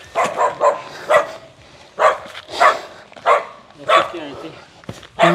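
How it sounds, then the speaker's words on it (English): Several dogs bark and yip in repeated sharp bursts, fairly close and loud, with people talking between and under the barks. "You hear dogs?"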